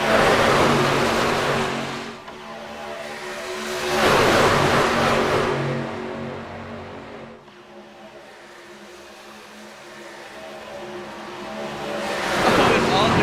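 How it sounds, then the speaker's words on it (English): Racing trucks in a Prospect Truck Series race at Daytona roar past in broad, surging waves of engine noise that swell, fade and return, loud and continuous with no talk. "Listen to these trucks roar."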